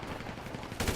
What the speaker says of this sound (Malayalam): Full right വെടിയുണ്ട്. Full right വെടിക്കുന്നുണ്ട്.